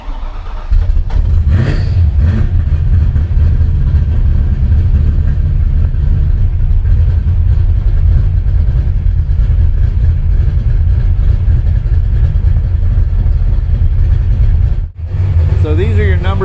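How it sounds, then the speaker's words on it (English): A car fitted with a carburetor-style fuel injection system (CFI Enforcer) starts and settles into a loud, steady idle with a deep low rumble, running continuously close by with a brief dip near the end. "So I'm going to go ahead and start the car up and let's talk about it."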